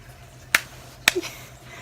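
A child claps hands twice, two sharp, bright slaps about half a second apart, close by in an otherwise quiet indoor room.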